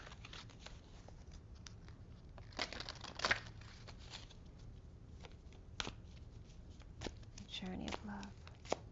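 Tarot cards are shuffled and drawn, giving soft riffling, flicking and papery rustles in quiet bursts, close and faint.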